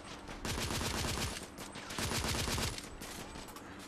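Gunfire in the video game The Order 1886: rapid machine-gun bursts rattle in two long volleys of quick repeated shots, fairly close, then trail off.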